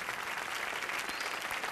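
A studio audience at a televised Bhojpuri folk singing competition applauds to welcome a celebrity guest, a dense, steady burst of clapping heard alone for under two seconds.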